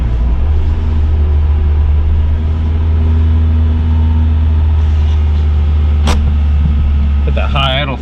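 A car engine on a high idle while warming up in the cold, a loud, steady low rumble that holds throughout, with a brief clank and someone speaking near the end.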